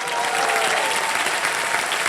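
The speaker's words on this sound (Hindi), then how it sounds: "जोरदार तालियां उनके लिए।" A game show studio audience applauds loudly and steadily, a dense wash of many hands clapping close and continuous throughout.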